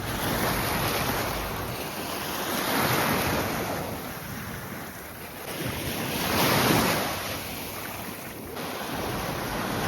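Sea surf rolls onto a beach at Beldibi in slow swelling surges, mixed with strong gusting wind buffeting the microphone, loud and continuous with no voices.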